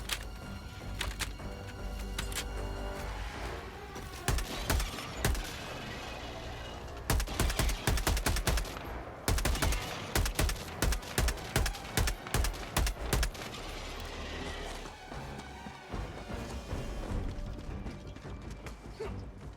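Helldivers 2 video game combat: dense bursts of automatic gunfire, loud and close, rapid rhythmic volleys with short pauses between them, continuous and punchy, game noise filling the whole stretch with no talk over it.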